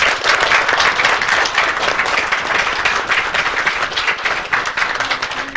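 An audience at a city commission meeting claps continuously, a dense, steady wash of applause from start to finish.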